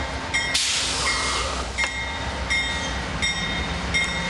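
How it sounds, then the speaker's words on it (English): The eastbound Southwest Chief passenger train pulls out of Fullerton, a steady rumble of rolling railcars with repeated clinks and clicks from the wheels, moderately close and without talk. "here goes the eastbound Southwest Chief out of Fullerton"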